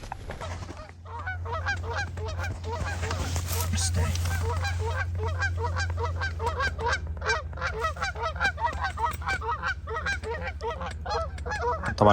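Many geese honk repeatedly while they land during a hunt. The dense, overlapping calls carry on steadily throughout, with a low, constant rumble beneath them.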